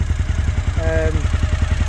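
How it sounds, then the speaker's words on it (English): A high-mileage Suzuki TL1000R engine idles with a fast, even ticking clatter over a low rhythmic thrum, close and loud, with a brief tonal whine midway. "Got the illustrious tick on the engine, the TL in the forum world stands for ticks loudly"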